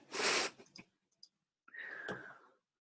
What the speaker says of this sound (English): I dig the breathing in my ear